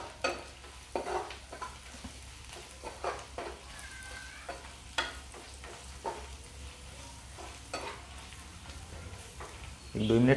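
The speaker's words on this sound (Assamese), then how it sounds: "এতিয়া মছলাখিনি অলপ ফ্ৰাই কৰিম" Masala spices frying for chana masala in a pan with tomato, a soft continuous sizzle broken by repeated scraping stirs of a spoon, growing louder at the end, with a voice talking over it.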